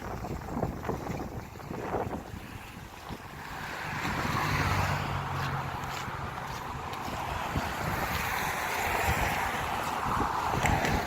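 Fast-moving water of the St. Lawrence River at Beauharnois rushes in a steady broad roar, mixed with gusts of wind buffeting the microphone and no talking.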